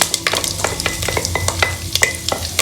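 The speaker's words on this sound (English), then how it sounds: "The mustard seeds are spluttering." Mustard seeds spluttering and popping in hot oil in a pot, a steady series of sharp crackles and pops over a continuous sizzle, close and fairly loud with no voices.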